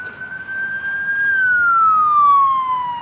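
An ambulance siren on a city street near a hotel sounds as one continuous loud wail, its pitch holding steady and then gliding lower as the vehicle passes close by, with no talk over it.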